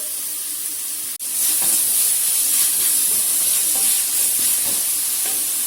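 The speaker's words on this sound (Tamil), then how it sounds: "தக்காளி, வேப்பிலை இலைகள் இது எல்லாத்தையும் நல்லா வணக்கிக்கலாம்." Vegetables and tomatoes for Hakka noodles sizzle and hiss steadily in a hot pan, close by, after a brief drop at the start, with faint stirring scrapes and no talk.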